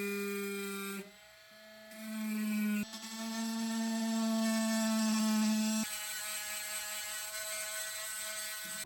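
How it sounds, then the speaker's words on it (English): A small rotary grinder works metal on RC crawler steering knuckles and a C-hub, whining steadily up close, its pitch shifting in several steps as the tool loads and unloads against the part. "grind down the metal at all potential contact points"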